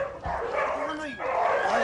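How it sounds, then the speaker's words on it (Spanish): Several neglected, abandoned dogs kept crowded together bark and yip in short overlapping bursts, mixed with voices talking over them. "Más de 20 perros se encuentran hacinados"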